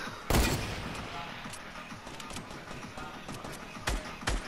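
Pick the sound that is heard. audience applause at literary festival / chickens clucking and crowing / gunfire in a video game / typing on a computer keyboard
gunfire in a video game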